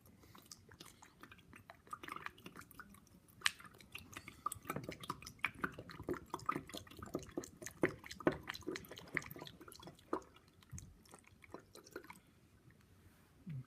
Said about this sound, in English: So I'll add some deionized water.